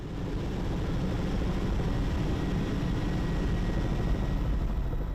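Helicopters and airplanes fly over a rainforest fire in the Araribóia reserve in Brazil, producing a continuous, even, droning rumble with no break.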